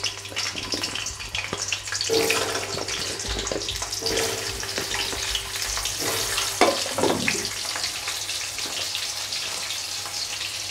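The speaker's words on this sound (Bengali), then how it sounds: "ওই কড়াইতেই আমি আরও একটু তেল দিয়ে আলুগুলো একটু নুন হলুদ দিয়ে ভেজে নেব।" Potatoes fry in oil with salt and turmeric in a wok, giving a steady, close, watery sizzle and crackle with a few sharper spits and clatters over a constant low hum.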